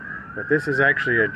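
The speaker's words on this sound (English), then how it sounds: "sorry for the sirens" A siren wails steadily in the background, a high sustained tone running under a man's speech throughout.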